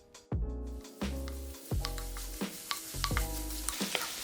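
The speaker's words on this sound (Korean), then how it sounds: "약불에 궁중팬 올려 버터 크게 1스푼 넣고 볶아주고" A large spoonful of butter sizzles in a wok over low heat, with a steady crackle broken by regular scraping strokes about every second as the contents are stirred.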